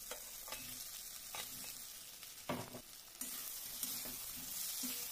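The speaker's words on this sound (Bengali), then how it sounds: "আলুটা দিয়ে আবার আমি মশলার সঙ্গে ভালো করে কষিয়ে নেব" Fried potatoes stirred into a Bengali chital (clown knife fish) curry masala in a pan, giving a steady sizzle with intermittent scraping stir strokes, close and alone without talk.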